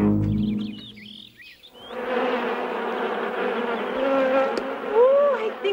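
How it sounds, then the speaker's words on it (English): Swarm of bees buzzing in a steady, dense drone that rises after a brief moment of other sound and holds for several seconds, close and moderately loud, with faint whistling tones over it. "those bees have been busier than bees"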